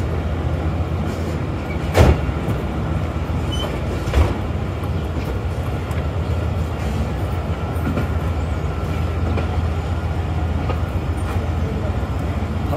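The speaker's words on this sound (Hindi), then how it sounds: "so finally after 2 minutes we are leaving Sahiwal railway station." Karachi Express train pulling out of Sahiwal railway station, a steady rumble of rolling carriages with clickety-clack from the wheels and a couple of sharp knocks, heard from on board with faint voices in the background.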